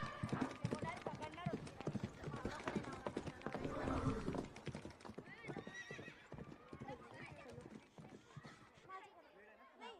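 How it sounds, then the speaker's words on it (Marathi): Hooves pound rapidly as a horse gallops, with a whinny among them, while excited voices talk and shout over the commotion. "घोडा उधळलाय"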